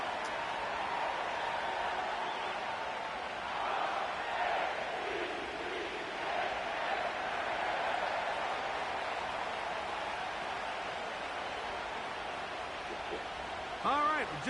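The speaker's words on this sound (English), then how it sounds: "The crowd is definitely ready" Stadium crowd at M&T Bank Stadium in Baltimore for a Ravens game in Madden 23, a broad steady roar filling the background with a slight swell midway, moderately loud and distant.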